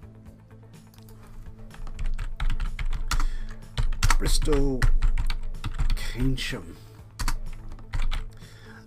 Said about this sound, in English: Yeah, my typing is still rubbish.